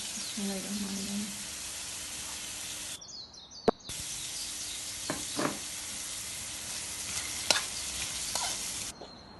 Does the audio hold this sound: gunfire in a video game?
no